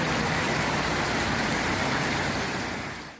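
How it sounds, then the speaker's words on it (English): Heavy hurricane rain pours in a loud, unbroken roar from a Category 3 storm with strong sustained winds, the dense wash of water holding steady before easing slightly at the end. "And just listen to that rain."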